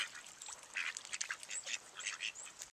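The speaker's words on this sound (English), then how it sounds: "like seen in these mallard ducks" Mallard ducks quack repeatedly near the shore of Puget Sound, giving several nasal calls in irregular bursts at moderate volume before the sound cuts off abruptly.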